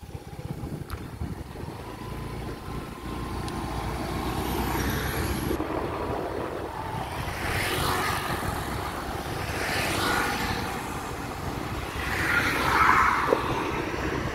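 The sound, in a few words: vehicle traffic on Padang Sicincin toll road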